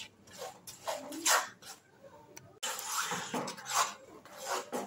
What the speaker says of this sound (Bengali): গুড় দিয়ে আবার আমি নাড়তে লাগলাম।